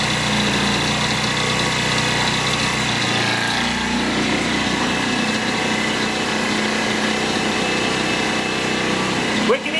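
Ryobi RYI911LP inverter generator running at low speed, giving a steady, close mechanical hum and whine that hardly changes, with a brief bump near the end.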